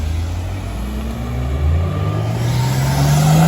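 A Peugeot car drives away with a steady engine rumble that rises in pitch as it accelerates, growing slightly louder across the stretch with no talking.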